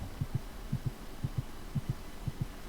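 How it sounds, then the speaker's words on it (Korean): Steady, faint heartbeat in a video game, with paired low thumps repeating in an even rhythm about every half second and nothing else over them. "두근두근 소리 나는데"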